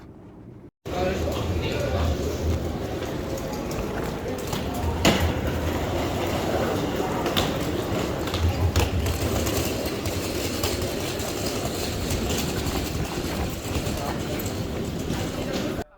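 Steady rumble and rattle of a moving Dutch train carriage leaving Utrecht toward Schiphol Airport, continuous low clatter with occasional clicks, and faint talk nearby.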